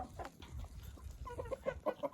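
Young hens about six and a half months old peck and cluck softly while trying yeast for the first time, with low scratching and shuffling noise beneath a few short, close clucks near the end.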